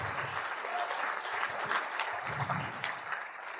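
Audience applause at a live session in Bhilai, a steady, fairly loud round of clapping from a room full of students that continues for several seconds without talk.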